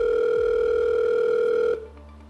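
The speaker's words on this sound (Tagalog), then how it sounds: "Tawagan na natin si Regine" A steady telephone ringback tone sounds loud and alone while a call is placed to a friend during a game show, holding for nearly two seconds before cutting off abruptly.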